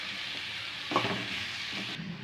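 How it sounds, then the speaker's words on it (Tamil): Potato rice masala with garam masala and chilli powder sizzles softly in a pan while a spoon stirs it, with one clear clink and some scraping; faint, close, no talking. "நல்லா கிளறி விட்டுக்கோங்க."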